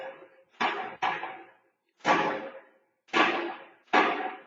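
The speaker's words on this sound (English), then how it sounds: "Apparently we're making popcorn with the radiators back there" Radiator pipes popping and clanking in a room, five sharp knocks arriving at irregular intervals, each a loud bang trailing off briefly, with no talk.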